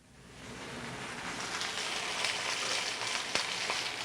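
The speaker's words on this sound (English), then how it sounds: "we'll place meat side down into the pan and sear" Meat placed in a hot pan and seared, giving a steady close sizzle that swells within the first half second and holds loud and even throughout, with a small pop near the end.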